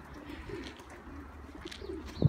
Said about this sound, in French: Les pigeons, ils volent tranquillou.